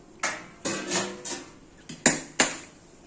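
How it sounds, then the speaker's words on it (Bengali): A few light metallic clinks and knocks as a lid is lifted off a pot of raw mango pickle, spaced sharp taps with short ringing tails, close and fairly quiet. "এখন ঢাকনাটা তুলে দেখাচ্ছি"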